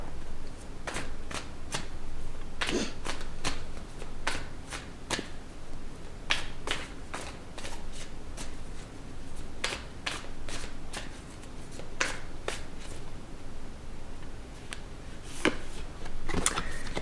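Tarot cards are shuffled and pulled by hand, a long series of crisp riffles and sharp card snaps at an uneven pace, close and clear with no talking.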